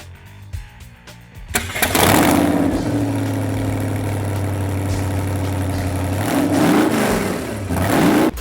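A loud street rod engine fires up, then idles with a deep rumble before revving up sharply near the end.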